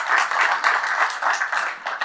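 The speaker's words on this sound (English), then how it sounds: "Let's give a warm applause to Mr. Lee Makiyama." Conference audience applause in a hotel hall, dense steady clapping from many hands throughout, fairly loud and continuous with no talking over it.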